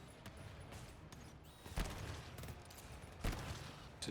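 Gunfire in the co-op shooter GTFO, a couple of muffled shots standing out from a dense, noisy game soundscape.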